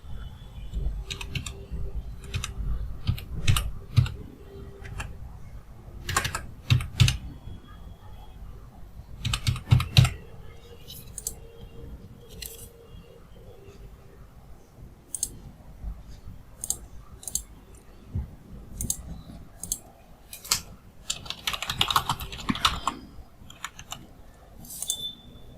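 Fingers type on a computer keyboard to enter credit card details, irregular bursts of close, crisp key clicks with short pauses, fairly loud and alone.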